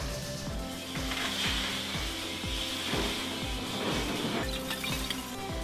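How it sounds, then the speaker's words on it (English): Glass recycling plant machinery as a hopper releases broken glass onto a conveyor belt: steady loud mechanical rumble with repeated rhythmic clanks and rattles about twice a second, continuous throughout with no voices. "The glass is scooped up and dropped into a hopper, which evenly releases the glass onto a conveyor belt that leads into the plant for processing."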